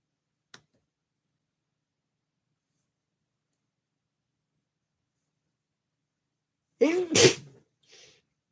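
One sharp sneeze bursts out close by after a long near-silence, preceded by a faint tick and followed by a brief small exhale.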